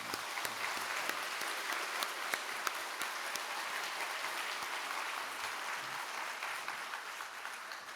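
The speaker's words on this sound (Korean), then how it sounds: "우리 다 같이 박수 드리겠습니다" A congregation applauds together at a church service honoring a retiring senior pastor, dense continuous clapping that holds steady for eight seconds at moderate volume.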